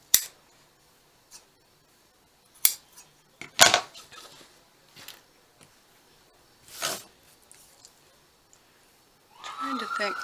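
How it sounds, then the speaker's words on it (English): Scissors cut fabric for reverse appliqué, giving sparse sharp snips and a few longer slicing strokes, close and moderately loud, with quiet gaps and a brief rustle near the end. "I'm going to cut this bigger."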